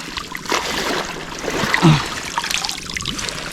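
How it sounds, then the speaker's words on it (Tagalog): A strong river current rushes and gurgles steadily, a continuous close wash of flowing water with small splashes throughout, no talking over it. "Malakas ang agos."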